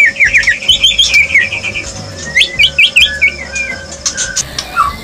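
A white-rumped shama sings nearby in a rich run of whistles and chirps, with varied quick phrases and short pauses, clear and loud, with no talking.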